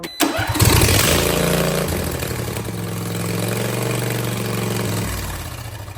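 A John Deere LA165 lawn tractor engine, brand new and choked, cranks briefly and catches, then settles into a steady, loud, close running idle before dropping off near the end.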